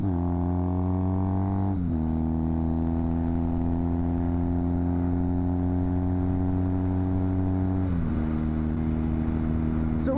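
A KZ400 tracker motorcycle engine hums steadily while being ridden, its pitch dropping sharply twice as the throttle shifts between gears, a close, continuous mid-toned drone with no talking.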